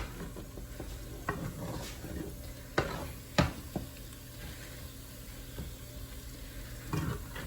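Moong dal halwa roasting in a pan gives a low, quiet sizzle with occasional spoon scrapes and taps as it is stirred; close but faint, no voices.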